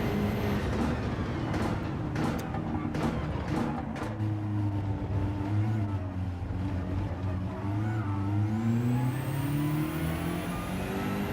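A BMW race car in Gran Turismo 7 at Monza, its engine droning steadily throughout, with the tone climbing and shifting as it threads a chicane and rides over the curbs, loud and close with no talking.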